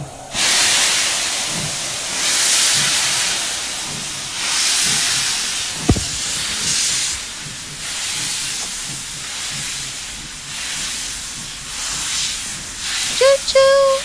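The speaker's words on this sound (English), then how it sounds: "The train should be here soon." Steam train arriving in the game Zelle: a long, loud hissing of steam rolls in waves, with a sharp clank midway and a short whistle-like tone near the end.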